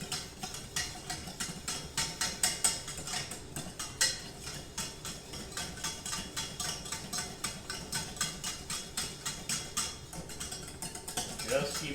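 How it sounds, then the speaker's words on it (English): A whisk beats briskly against a pan on the stove, producing a fast, steady run of light clicking strokes that continue without pause, with some faint background talk. "Just keep whisking."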